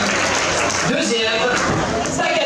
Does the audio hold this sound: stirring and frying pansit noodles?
no